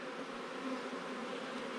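Honeybees in a queenless hive, a continuous close droning buzz of many bees, steady and fairly quiet, with no voices.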